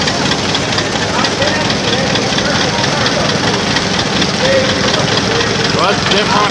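An old steel-wheeled tractor engine runs steadily at a vintage engine show, a continuous dense mechanical drone with a steady rhythm from start to finish, while voices speak over it.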